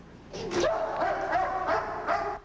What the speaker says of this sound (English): a barking police dog sniffed around